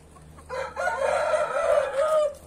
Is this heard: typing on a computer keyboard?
no